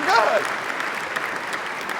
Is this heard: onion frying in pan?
no